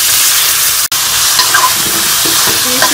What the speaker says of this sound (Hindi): अब हम इसमें बीफ शामिल कर लेंगे और इसमें हम अच्छी तरह से कलर चेंज होने तक मैं इसको भूनेंगे